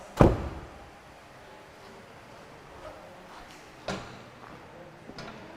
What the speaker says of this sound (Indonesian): Oke, sekarang ini sudah terbuka, saya akan tutup secara keras.